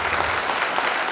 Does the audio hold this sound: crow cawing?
no